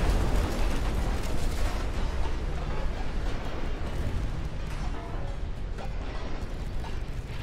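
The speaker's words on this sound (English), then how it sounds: "We're gonna take over 100 torpedo hits" Torpedoes strike and explode against a battleship in Ultimate Admiral: Dreadnoughts, a continuous loud roar of booming blasts and rumbling, with a voice talking over it at times.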